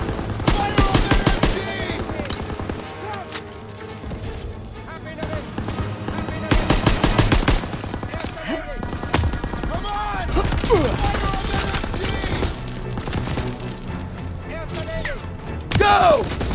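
Machine gun fire rattles in rapid, loud bursts during a WWII battle in a video game set at Hill 493 in the Hürtgen Forest, mixed with explosions, soldiers shouting and a dense battlefield din.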